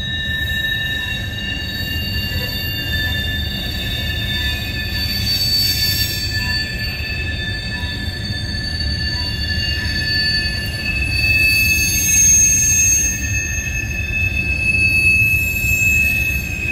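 A CN freight train led by an EMD locomotive rolls past at Ladysmith with loud, continuous high-pitched wheel squeal over a deep rumble of cars, the squealing tones shifting and swelling throughout.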